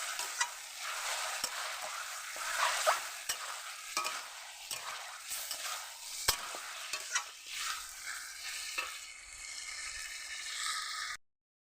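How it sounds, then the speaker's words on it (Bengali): Chicken kosha, spiced Bengali braised chicken, sizzles in a pan while a spatula stirs it, with a continuous frying hiss broken by frequent sharp scrapes and taps against the pan before an abrupt cut to silence. "এবার নেড়ে চেড়ে নেবো সুন্দর করে।"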